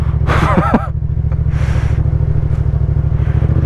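A Yamaha MT-07 motorcycle engine pulls with a steady, throbbing low rumble as it gathers speed, close and continuous, with a brief vocal exclamation over it at the start.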